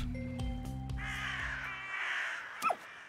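Blackbirds cawing in the video game Little Misfortune: several harsh, raspy caws ring out in quick succession over a steady tonal game backdrop, followed by a brief sharp cry near the end.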